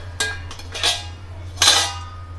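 A metal lid lifted off a pot of Maharashtrian prawn curry, sounding as three short, bright clinks and scrapes of metal over a low hum, with no voices.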